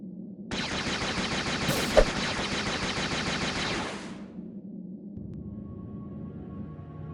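Rapid-fire weapon shots from the PC game Star Wars Jedi Knight II: Jedi Outcast, a loud dense burst lasting about three seconds before cutting off into a low background hum.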